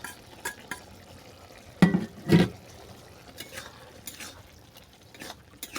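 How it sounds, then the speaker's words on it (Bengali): A spoon stirs moringa flower curry with small fried fish in a pan, giving soft intermittent scrapes and light sizzling with two louder clatters near the middle, fairly quiet overall. "এটাকে অল্প করে নেড়ে ছেড়ে আমি নামিয়ে নেবো"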